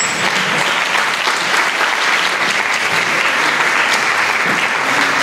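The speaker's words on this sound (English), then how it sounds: "we want to give a big round of applause for these ladies" Sustained audience applause at a women's empowerment event in San Antonio, honoring volunteer ladies; steady dense clapping fills the room at even loudness throughout, with no voices standing out.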